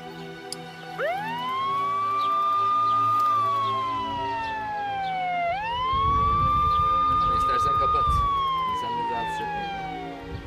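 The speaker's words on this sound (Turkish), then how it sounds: "Siren var mı? Var. Çalıştır bakalım." An old police car siren is switched on, wailing upward, holding, then sliding down before rising again in two long sweeps, loud and close, with engine rumble underneath.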